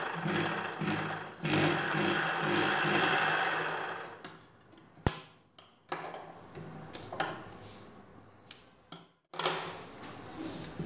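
A sewing machine stitches folded sleeve edges with fast mechanical whirring in runs of a few seconds, broken by pauses, sharp clicks and the rustle of cloth being handled.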